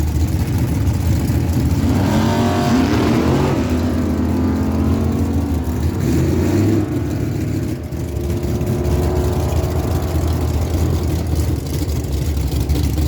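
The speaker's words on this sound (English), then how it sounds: "Raymond Roach will line up beside him in the 69 Buick Opel GT" At a drag strip, a dragster and a 1969 Buick Opel GT launch together, their engines roaring and revving loudly over a steady rumble that holds for several seconds, with no talking.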